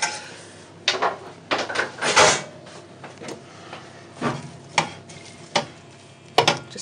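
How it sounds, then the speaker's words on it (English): A spoon stirs a hot potato and pea mix with coriander in a pan, producing irregular scraping and knocking strokes over a faint sizzle with no talking. "Just give it a good stir."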